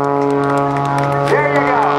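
Aerobatic airplane flown by Patty Wagstaff swoops low over the deck and pulls its nose up at the 2008 NAS Oceana airshow, a steady droning engine tone that rises and swells as it climbs, with a crowd murmuring beneath.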